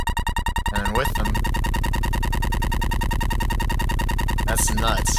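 Heavy, distorted bass made in FL Studio's sampler, looping steadily with berserk-style effects applied, loud and dense throughout, with a brief noisy burst near the end.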